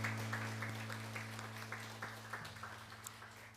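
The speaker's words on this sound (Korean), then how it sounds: "우리 서로에게도 축복의 박수 하겠습니다" Congregation claps during a Korean Sunday worship service, a moderate patter of hands over a sustained organ or keyboard chord, tapering off toward the end.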